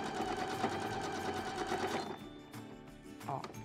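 A sewing machine runs steadily at close range while stitching fabric ruffles for a baby crib pillow, its motor humming loudly for about two seconds before slowing and stopping and then briefly starting again.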